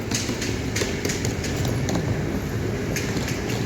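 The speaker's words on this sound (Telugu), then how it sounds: "సో ఇవి మెట్రో ట్రైన్స్ అనమాట" A metro train passing near Kikuna station in Japan, a loud, close, continuous rumble with rhythmic clicks of wheels over rail joints.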